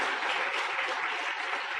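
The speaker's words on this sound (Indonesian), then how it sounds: "Tepuk tangan buat Anda semua ya" Brief burst of audience applause at a motivational business seminar, a dense wash of clapping that is fairly soft and even from start to finish.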